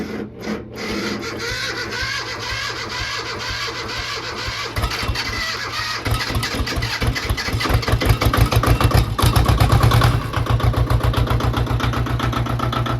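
A tractor engine chugs steadily while plowing, with a rhythmic mechanical thumping that grows heavier and louder partway through, like it is working under load.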